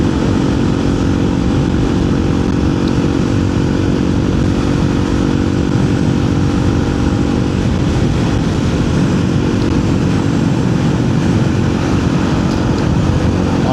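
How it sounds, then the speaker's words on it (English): Loud, steady motorcycle exhaust drone from a modified system, a dense close rumble holding constant throughout with no speech. "I don't expect it to get it as quiet as the standard exhaust, but just a little quieter would be good."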